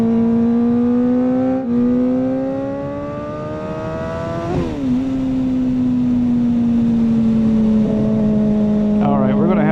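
A Kawasaki ZX-4RR motorcycle fitted with a slip-on exhaust holds a high, steady tone from close by. Its pitch climbs and dips as it revs, with a brief blip partway through.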